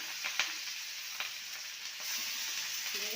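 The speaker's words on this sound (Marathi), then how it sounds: "आता कढीपत्ता घालून घेऊया आणि त्याच्यावर ही फ्राय आता सोडून घेऊया सर्व." Fish masala fry drops into hot oil with curry leaves, giving a bright, continuous sizzle with a few crackling pops early on, close and without voices.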